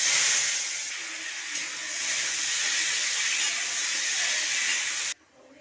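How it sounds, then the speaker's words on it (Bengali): Potatoes fry in hot oil in a wok, giving a steady, fairly loud sizzling hiss for about five seconds before it cuts off abruptly. "তেল দিয়ে প্রথমে আলুটাকে ভেজে নেব"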